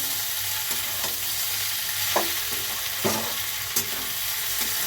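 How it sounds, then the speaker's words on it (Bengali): Fish frying in a pan sizzles steadily while being stirred, with a few distinct scraping and clinking strokes standing out over the constant crackle. "এবার ভালো করে নেড়েছি"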